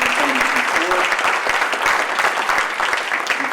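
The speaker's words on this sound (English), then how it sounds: "please, again, join me in a round of applause" A lecture audience at a law school event applauds steadily, a dense, even wash of clapping from many hands lasting a few seconds at close range, with a voice briefly audible beneath it.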